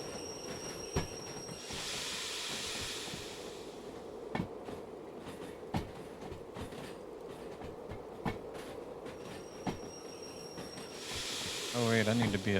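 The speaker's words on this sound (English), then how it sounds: "Train brake." In the Derail Valley train game, air brakes on a long train hiss in two broad bursts over a steady rolling rumble with occasional clanks, and someone talks briefly near the end.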